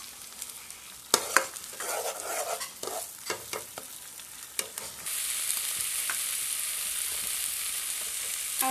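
Onion and chilies fry in a pan, stirred with scattered scrapes and clatters at first, then a loud, steady sizzle takes over when they hit the hot oil, with no talking.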